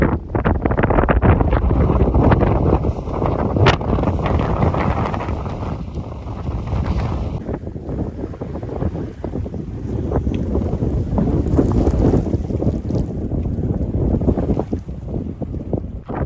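Strong mountain wind on Monte Campomolon in wintry May conditions, roaring and buffeting a phone microphone continuously, loud and close, with gusting rumble and blown snow, no speech.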